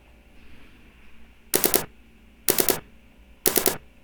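Gunfire recorded during the Las Vegas shooting: three separate loud bursts of rapid automatic fire about a second apart, each sharp and crackling over quiet background hiss.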